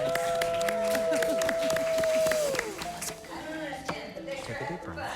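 Audience applause at a drag competition show, clapping and crowd noise rising under a sustained sung or musical tone that fades out, then scattered claps and murmuring voices continue.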